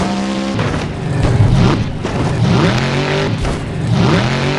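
Monster truck engine revving hard and surging as the truck rolls over crushed cars at a destruction tournament, loud and close with rising and falling pitch sweeps, tire scrubbing and metal crunching throughout.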